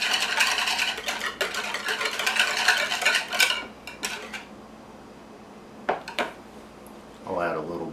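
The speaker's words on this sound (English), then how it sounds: "we'll add just a little bit of lime juice at a time and stir it until we get the right consistency" Spoon clinking and scraping steadily in a bowl while lime juice is stirred into a sour cream fish taco sauce, busy for several seconds then easing off, followed by a few faint clinks and a brief voice.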